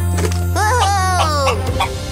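A cartoon chicken on a farm clucks in a quick rising and falling voiced run, close and clear, over a steady hum of background music or machinery.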